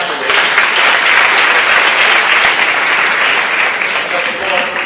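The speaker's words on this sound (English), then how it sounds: "So give them a round of applause to the 8 finalists." A large audience at a science competition applauding the eight finalists, loud sustained clapping that holds steady throughout, with a voice faintly audible beneath it.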